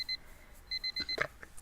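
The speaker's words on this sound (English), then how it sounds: "I just want to stop this alarm." An alarm clock in the Asagao Academy video game beeps in short repeated electronic bursts, a pair and then a quick string of four, fairly quiet, with a brief clatter in between.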